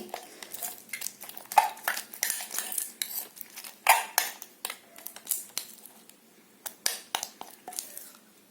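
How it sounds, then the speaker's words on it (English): Homemade three-ingredient slime being stirred fast and continuously in a bowl, a rapid series of wet clicks and utensil scrapes against the bowl, close and fairly quiet. "Okay, completely stir it continuously, very fast."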